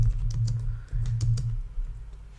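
Typing on a computer keyboard: a quick run of close, light key clicks at an uneven pace, with a low hum behind.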